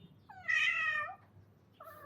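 A visiting young male cat gives one long, drawn-out meow with an odd, wavering tone, close and clear against a quiet background, followed by the start of a second shorter cry.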